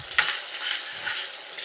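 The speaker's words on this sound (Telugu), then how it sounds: "మంటను మీడియంలో పెట్టుకొని ఉల్లిపాయలు బాగా కలర్ మారేంత వరకు వేయించుకోవాలి" Onions frying over a medium flame, a steady close hiss and sizzle with a few soft scrapes of a spoon in the pan, no voices.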